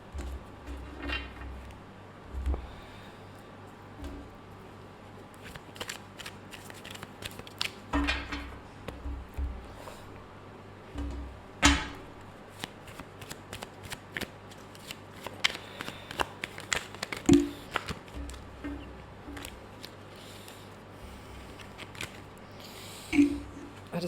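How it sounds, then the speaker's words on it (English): A tarot card deck shuffled by hand, with repeated close riffles, slaps and soft card clicks coming in irregular bursts over about twenty-four seconds, alone with no talk. "I don't even know why I'm shuffling this deck."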